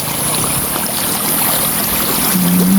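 Flowing water at a flooded stream or field during a spear-fishing outing for fish and rice-field frogs, a steady broadband rush close by that continues without a break and without talk.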